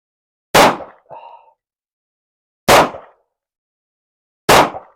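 Three sharp, loud handgun shots from a Smith & Wesson M&P 2.0, fired slowly with about two seconds between them, each a hard crack that quickly decays, with a faint brief sound after the first.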